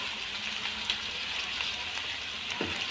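Chicken sizzles and fries in a karahi pot for chicken makhan karahi, a steady, faint hiss and crackle with a soft clink of a utensil near the end.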